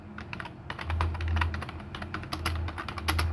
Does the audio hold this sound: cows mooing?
no